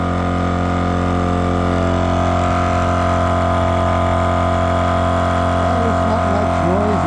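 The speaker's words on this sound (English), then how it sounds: "It's not much noisier than my other air compressor, which is actually really fast too" An EZFlate M.O.A.B air compressor runs steadily and loudly with a constant motor drone and harmonic hum, alone with no voices.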